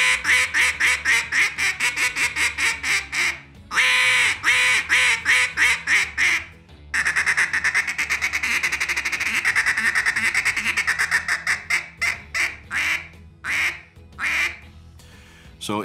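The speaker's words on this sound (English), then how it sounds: "the Legacy is definitely the call for you" Mallard quacks from an Elite Legacy competition duck call, blown in loud close bursts and rolling strings with short pauses between phrases, no talking over the calling.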